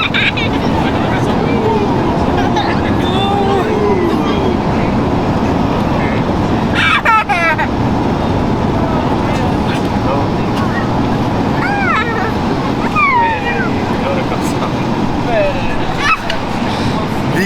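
Loud, steady engine roar fills an airliner cabin in turbulence, with a constant broadband drone throughout and people talking over it, plus a few brief knocks and rattles.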